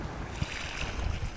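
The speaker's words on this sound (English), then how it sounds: "so please excuse all of the wind noise on the video." Gusting wind buffets an outdoor microphone beside the water on a windy day, a steady low rumble with irregular thumps and no talking.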